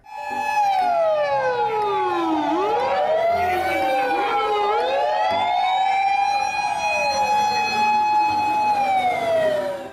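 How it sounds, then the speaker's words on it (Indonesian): A toy fire engine's siren wails loudly and continuously, its pitch sweeping up and down in overlapping rising and falling tones that fill the whole stretch with no talk. "Wow, lihat teman-teman, di sini ada mobil pemadam kebakaran."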